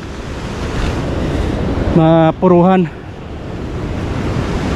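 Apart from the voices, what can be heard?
strong ocean waves at a rocky fishing spot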